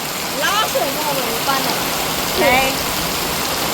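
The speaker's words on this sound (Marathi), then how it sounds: "हा जबरदस्त पाऊस आहे आज पहिला पाऊस झाला" Steady heavy rain hisses across the whole clip, with a few voices talking briefly over the downpour.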